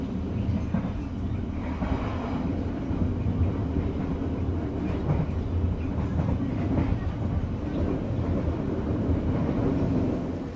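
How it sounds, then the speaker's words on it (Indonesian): The Kuto Jaya Selatan train pulls into Sumpiyuh station in sudden rain, with a continuous rumble and clatter of rail cars close by and no talking. "kereta Kuto Jaya Selatan telah tiba di stasiun Sumpiyuh"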